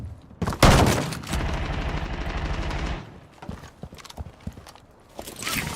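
Gunfire in the video game Rainbow Six Siege X, a loud burst of rapid automatic shots sweeping in at first, then scattered sharper cracks and thuds trailing off, with no voices.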